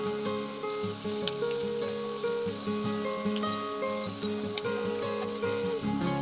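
Onions with a little salt sautéing in a pan: a steady, continuous sizzle, close and even, with background music running throughout and no talking.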